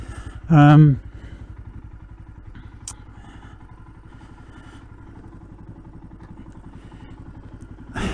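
A Royal Enfield Himalayan motorcycle idles with a steady, even thump while it is walked through a gate, with a brief louder burst near the start.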